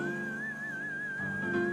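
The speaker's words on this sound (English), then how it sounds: "That's a whistle." A single sustained whistle note with a slight wavering pitch, held steadily and close for the whole moment over a faint background.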